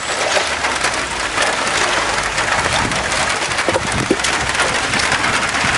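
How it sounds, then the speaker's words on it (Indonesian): Heavy rain pours down in a steady, dense broadband hiss, loud and close throughout, with a few brief knocks near the end and no clear talk. "Wadah, hujan kelebat."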